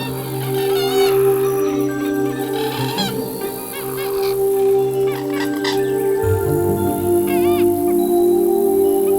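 Waterfowl call repeatedly at the Bharatpur swamp lake, with honking, goose-like cries rising over a steady background hum.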